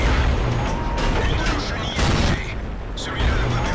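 Tank cannon rounds boom and crash in the World of Tanks video game, several heavy impacts landing in quick succession over dense battle noise, with someone talking over the gunfire.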